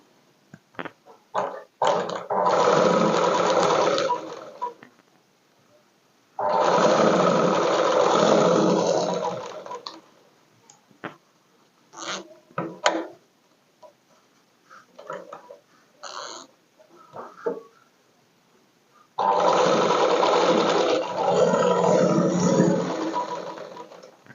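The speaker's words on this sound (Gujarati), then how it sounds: "હવે આપણે અહીંયા ધાર ઉપર સીધી સિલાઈ લગાવીશું" A sewing machine runs a straight stitch along the edge of a party-wear frock in three long steady bursts, with quieter pauses of fabric handling and small clicks between them.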